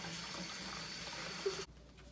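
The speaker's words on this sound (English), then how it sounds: "I have to wash my hands." A kitchen tap runs steadily as hands are washed, a faint, even splashing flow that stops abruptly near the end.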